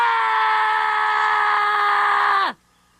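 A person lets out a long, loud, sustained scream of terror, held steady for about two and a half seconds before sliding down in pitch and breaking off into silence.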